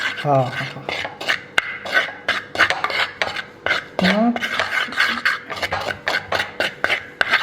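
Chicken pieces tossed with garlic powder, chilli powder and turmeric are stirred in a bowl or pan, giving repeated close scraping, clinking and rubbing strokes in an uneven rhythm, with brief voice sounds between them.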